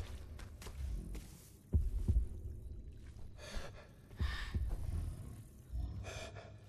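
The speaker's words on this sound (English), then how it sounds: "His heartbeat is so slow." Slow, heavy heartbeat of Trico, the giant creature in The Last Guardian, deep low thumps spaced well apart with a soft hum and breathy swells between them, no voices.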